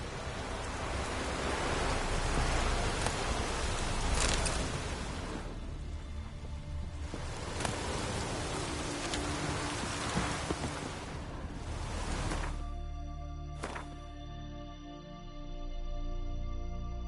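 Rain pours in The Witcher 3, a broad, dense, constant hiss punctuated by brief crackles, thinning out near the end as quieter ambient tones of the game take over.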